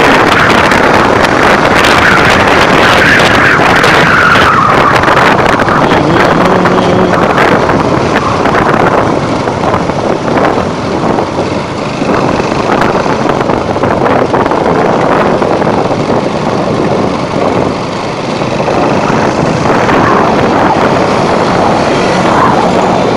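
Loud, constant roaring wind buffeting the microphone while riding a motorcycle through traffic in Cakung, heavy and unbroken for the whole stretch, with no talk.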